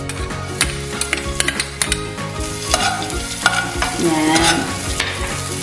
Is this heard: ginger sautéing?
yes